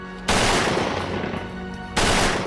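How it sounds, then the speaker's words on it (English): Automatic gunfire from rifles loaded with armor-piercing rounds during a police shootout in North Hollywood: a loud, dense burst of rapid shots roars for over a second, breaks briefly, then starts again. "We are all pinned down by automatic gunfire."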